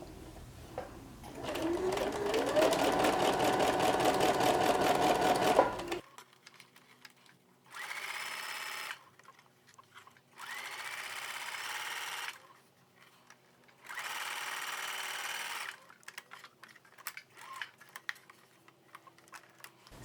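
A sewing machine stitching shirring lines with elastic thread on fabric, one long steady whir followed by several shorter bursts of stitching separated by quiet pauses and small clicks.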